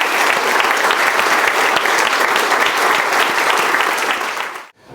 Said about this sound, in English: could I have a round of applause for all the family members who have sacrificed so much?